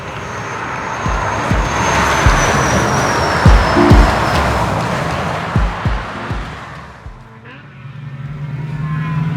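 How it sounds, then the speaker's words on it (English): Electric Tesla race cars run down a circuit's front straight, a broad whooshing rush of tyre and wind noise with a faint high whine, brief pass-by swells rising and fading, without engine roar. "here comes the Teslas down the front straight"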